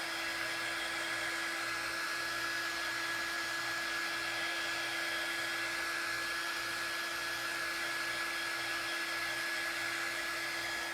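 A hair dryer blows steadily over Mod Podge on Dollar Tree cutouts, a loud continuous whine and airy rush that holds constant throughout with no talking.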